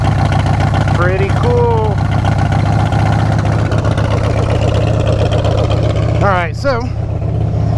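A motorcycle engine idles with a steady low throbbing rumble right after a Roland Sands Clarity cam chest cover install and oil change, loud and continuous while someone talks over it.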